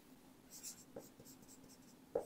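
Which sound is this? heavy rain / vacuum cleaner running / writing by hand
writing by hand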